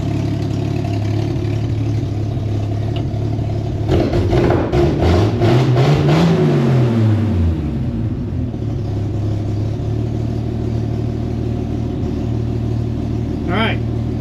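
A car engine freshly fitted with new plugs and wires idles with a slight skip, a steady close rumble with a rise and fall in revs midway, and a voice talking over it.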